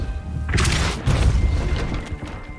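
A Depulso spell goes off in Hogwarts Legacy, a loud booming blast with crashing debris that sets in after half a second and tails off over the next two seconds.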